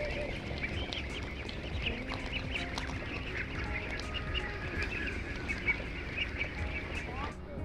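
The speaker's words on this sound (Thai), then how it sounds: "ลุงเขากำลังจะปล่อยเป็ดพอดี" A large flock of free-range field ducks on a Thai duck farm quack constantly in a dense, overlapping chorus, close and loud throughout, with faint voices talking underneath.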